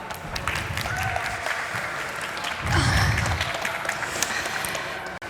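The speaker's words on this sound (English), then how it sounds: "Please give them a warm round of applause." An audience gives a warm round of applause welcoming panelists, steady clapping throughout with a brief low rumble midway, ending abruptly.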